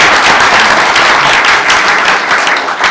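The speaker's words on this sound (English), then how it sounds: "let's give her a round of applause." An audience at a school board meeting applauds, dense continuous clapping from many hands that stays loud for the whole stretch and tapers slightly at the end.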